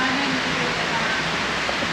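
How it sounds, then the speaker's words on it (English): Heavy pouring rain in Fiji makes a steady, dense broadband hiss that fills the whole clip without a break. It sounds close and fairly loud, with no clear talk over it. "It's pouring rain."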